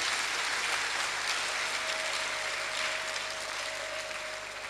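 Sustained, even applause fills a church congregation during a pastor's installation ceremony at a hotel, steady and fairly loud throughout with a faint held tone beneath and no talking.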